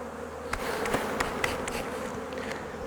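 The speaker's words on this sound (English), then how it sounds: "I'll shake all of the bees off here back into the nuc" Dense, steady buzzing of many honey bees close by, with a few louder soft thumps and rustles as they are shaken off a frame back into a nuc box.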